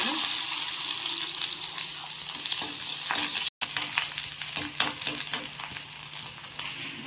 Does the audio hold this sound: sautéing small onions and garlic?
yes